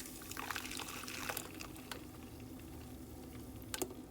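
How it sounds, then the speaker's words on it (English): Dairy-free vanilla ice cream base pours into a frozen stainless steel container, giving a soft, close liquid trickle with a few light patters and clinks over a steady low hum. "We're gonna pour this in here and do our first freeze"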